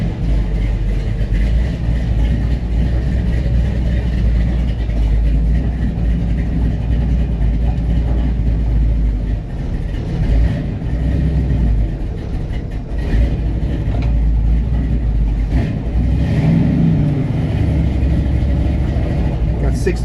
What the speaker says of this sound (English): The choke idle speed's not quite high enough.